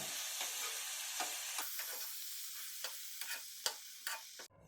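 A spoon stirring salad greens in a still-hot pan, soft scraping strokes and light clicks over a faint background sizzle, with no talk.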